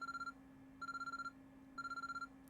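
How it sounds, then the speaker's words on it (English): Urgent electronic ringing from the Chaos;Head Noah video game sounds in three quick bursts of rapid, trilling rings separated by short gaps, with a faint steady hum underneath. "An urgent-sounding ringing noise suddenly rang throughout the room."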